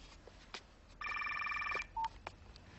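A telephone gives one electronic warbling ring burst lasting under a second, followed by a short beep, amid light clicks and room noise.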